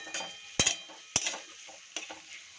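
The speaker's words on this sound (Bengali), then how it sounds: "ক্যাপসিকামের সাথে সাথে পেঁয়াজগুলো দিয়ে আমি ভালো করে নাড়িয়ে নেবো" Capsicum and onions fried in a pan for chilli chicken, stirred with a utensil: a few sharp scraping clinks over a soft, steady sizzle, close and fairly quiet.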